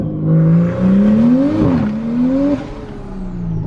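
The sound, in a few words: big turbo 2020 Toyota Supra accelerating on a street pull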